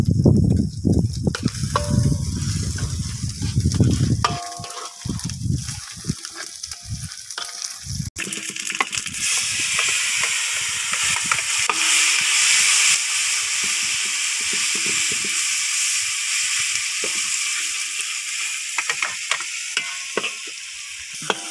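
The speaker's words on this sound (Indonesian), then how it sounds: "Kita goreng ikan terinya sampai kriuk ya sahabat." Anchovies fry in hot oil until crispy, with a loud, continuous sizzle and hiss, plus occasional stirring scrapes at the start.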